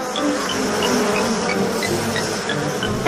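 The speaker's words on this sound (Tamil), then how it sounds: "ஹாய் குட்டி தேனீகள்." Newly hatched young honeybees buzzing in a dense, steady drone close by, with single bees whining past from time to time.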